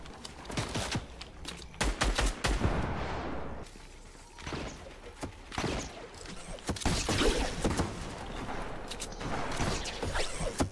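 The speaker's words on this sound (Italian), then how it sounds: "Spari, spari." Rapid bursts of gunfire in Fortnite crackle in irregular volleys with brief lulls between, sharp and fairly loud, with mechanical clanks mixed in.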